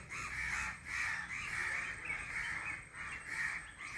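Crows cawing repeatedly in a steady run of harsh calls outdoors on a windy day, fairly near and alone without talk.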